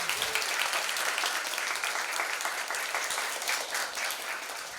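Steady, dense applause from an audience at a humanities and arts talk concert fills the whole stretch, sustained and fairly loud with no pause.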